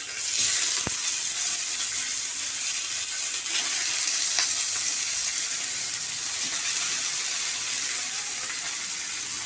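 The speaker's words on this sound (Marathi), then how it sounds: "तव्यामध्ये आता हे पनीर ठेवते।" Paneer shallow frying in a little oil on a flat tava over a medium flame, a steady, loud, continuous sizzle with a few sharp ticks and pops, no talking.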